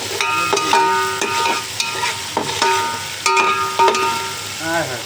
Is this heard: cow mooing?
no